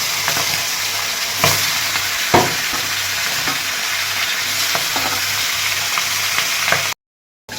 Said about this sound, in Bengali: তেল থেকে রীতিমতো ধোয়া উঠে গেছে এখন আমি মাথাগুলো ছেড়ে দিচ্ছি